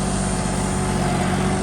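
A New Holland 5620 CRDI tractor, rated 65 HP, works under heavy load with its diesel engine giving a loud, steady, unbroken drone and rumble, with no voices over it.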